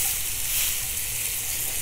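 Chuck eye steaks sizzle hard on a raised grate over a 200,000 BTU high-pressure low-profile burner, a loud, steady broadband hiss with a low roar of flame beneath and no talk.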